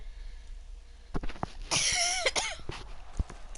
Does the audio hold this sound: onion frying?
no